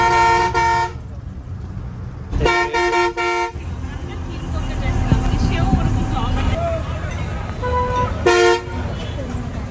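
Vehicle horns blare in a heavy road traffic jam during a bus journey from Bangladesh toward Kolkata, with repeated loud honks in clusters over a constant engine and street rumble and some background voices.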